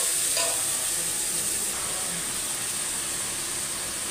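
Chopped tomato sizzles in a pan over fried ginger and cumin for a coconut and dried pea ghugni, a constant close hiss that eases slightly after a brief flare at the start.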